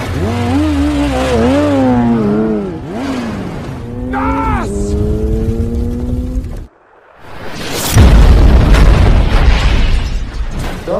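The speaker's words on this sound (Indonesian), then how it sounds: "Di sana, geng motor itu meledakkan mobil Brian." A car is blown up by a motorcycle gang in a scene from The Fast and the Furious. Revving engines whine and sweep upward, then a brief hush, then a loud booming explosion with rumbling debris afterward.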